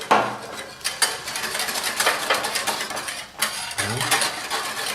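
Egg yolk and sugar mixture for crème anglaise being stirred with hot milk in a bowl, a whisk or utensil clinking and scraping rhythmically against the sides, close and busy throughout.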